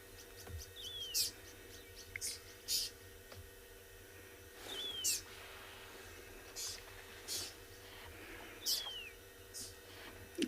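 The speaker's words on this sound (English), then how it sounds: "that is the sound of the oxpecker who's behind me." Oxpecker calls ring out outdoors at sunset on a safari: short, buzzy chirps and thin descending whistles repeat at intervals against a quiet background hum.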